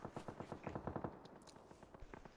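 Rapid bursts of automatic gunfire in the video game H1Z1 rattle from behind, a quick run of shots followed by scattered, quieter pops, all fairly faint and distant.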